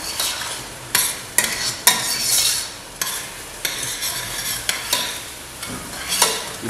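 Broth and wine are stirred in a pot over a sizzling heat, with a steady frying hiss broken by repeated scraping strokes of a spoon against the pot, close and fairly loud.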